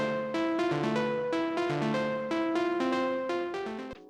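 Intensified synth lead at the close of an electronic music breakdown: bright plucked notes in a bouncing melodic pattern with long ringing tails, steady and fairly loud, ending with a sudden stop.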